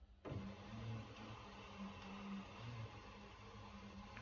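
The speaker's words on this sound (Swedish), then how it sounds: "Och då åker vårat fönster neråt." An electric window motor in a Volvo 745 door, powered off a small battery, lowers the glass with a steady low whirring hum that runs sluggishly and continuously after a brief start.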